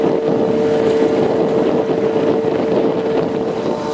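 Sailboat motoring into Spiekeroog harbour on the North Sea Wadden coast, a steady engine drone with a constant tonal hum and wind buffeting the microphone, no talking.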